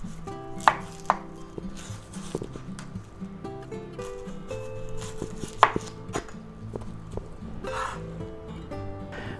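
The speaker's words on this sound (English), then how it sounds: "Alright, let's cut off the ends." A knife cuts the ends off a very large onion on a cutting board, several sharp chopping knocks spaced out over a low background hum.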